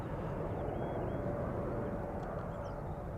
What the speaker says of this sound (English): there's a 777-200 just like this on its way to the runway we are standing next to